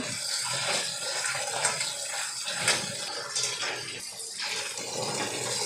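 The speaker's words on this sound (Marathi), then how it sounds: "आता आपल्याला याला वॉश करायचं आहे, चांगलं असं पाण्यानं धुवून घ्यायचं आहे स्वच्छ" Cleaned crabs are rinsed under running water from a tap, a continuous close splashing and gushing with small shifts as the crabs are handled.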